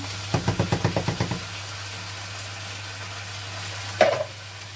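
Chopped tomatoes and tomato paste stirred in a frying pan: a quick run of about ten rhythmic scraping strokes over a low steady hum, then quiet, and one brief louder clatter near the end.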